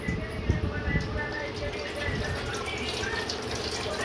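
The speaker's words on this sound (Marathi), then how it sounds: "आता ही पूर्ण बॉटल पाणी ओततोय आम्ही" Water from a full bottle poured out while making gulab jamun, a steady close splashing gush that runs without break for about four seconds.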